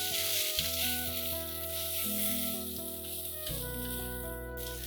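Masala with about a teaspoon of pounded fennel seed and a splash of water sizzles steadily in a pan as it is stirred, under prominent tonal background music that runs throughout.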